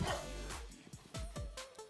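Dogs bark and yip at a kennel that breeds Presa Canarios and other large guardian breeds, with several loud, close barks coming in uneven bursts and short whimpering yips between them.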